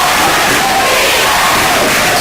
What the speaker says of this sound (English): And now the crowd is starting to go defense here.